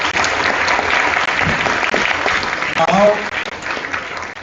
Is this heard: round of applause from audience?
yes